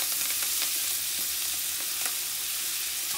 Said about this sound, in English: Now we're going to fry this like a fried onion on top of your fish.